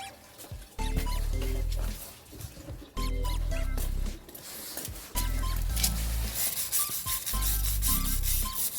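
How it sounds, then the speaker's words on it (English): A steel brush scrubs dirt off a surface during cleaning, in three bursts of close, harsh scraping strokes separated by short pauses, with no talking. "I'm using a brush, steel brush, to remove the dirt"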